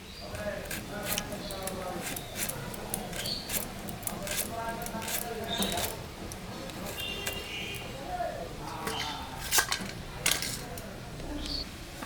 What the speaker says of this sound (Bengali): আমি এখন করলাটা কাটে নিই।